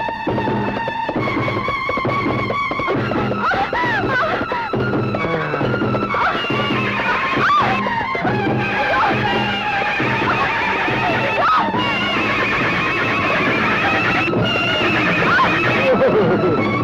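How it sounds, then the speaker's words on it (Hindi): A horse neighs and whinnies loudly and repeatedly amid a dense, busy mix with hoofbeat-like clatter throughout, no clear speech on top. "ये कोई साधारण घोड़ा नहीं है,"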